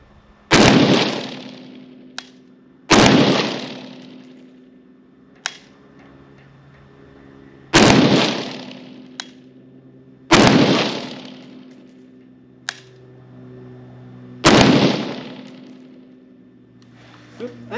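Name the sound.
gunshots hitting swinging steel targets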